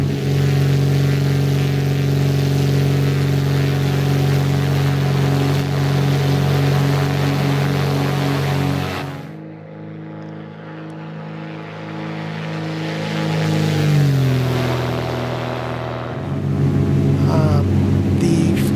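Beechcraft Bonanza G36 propeller plane departing in the X-Plane 12 flight simulator, a loud continuous engine drone with a steady tonal hum that dips briefly midway and then swells again.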